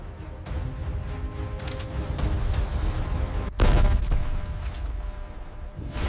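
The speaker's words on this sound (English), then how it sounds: "Live fire confirms the cannon's devastating power." Live fire from the main cannon of a T-14 Armata tank: a loud sharp blast partway through, following a rumbling, crackling stretch of distant firing and machinery, no speech.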